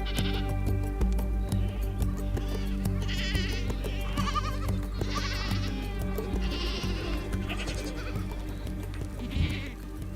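Goats belonging to nomadic herders in the Sahara bleat repeatedly, several calls overlapping and alternating at fairly close range over a constant low rumble, with no speech.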